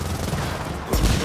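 A shotgun blast in the Gears of War 4 video game booms out near the end, loud and close, after a stretch of dense game noise and chatter.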